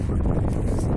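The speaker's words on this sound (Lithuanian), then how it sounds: "Atsiprašau, kad švilpia vėjas." Outdoors, wind buffets the microphone with a dense low roaring rumble that fills the whole brief moment, steady and close.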